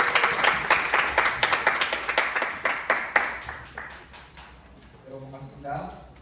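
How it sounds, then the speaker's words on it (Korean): Audience of a youth group winter retreat breaks into a burst of rhythmic clapping for an arriving speaker, loud and close at first, then fading into a few scattered claps before a voice begins speaking. "박수로 환영하겠습니다."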